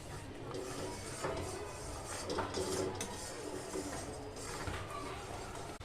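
A spoon working ground cashews into thickening milk kheer in a pot, giving soft, muffled scraping and faint metallic clinks over a low background hum, quiet and close with no talking.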